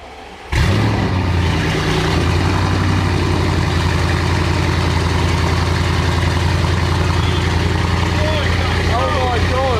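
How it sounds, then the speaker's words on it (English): An Audi RS6 fitted with a Scorpion exhaust and new downpipes fires up on a cold start, then settles into a loud, steady, deep idle rumble close by, with brief voices in the background. "I'm not sure how different the sound's going to be with this Scorpion exhaust"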